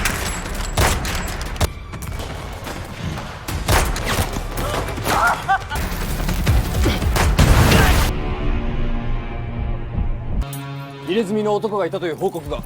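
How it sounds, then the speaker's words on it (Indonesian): Rapid bursts of gunfire crackle and boom for several seconds, with heavy hand grenade blasts mixed in, then fade into a lower rumble and a voice near the end. "menyerang unit divisi 7 dengan tembakan peluru dan granat tangan"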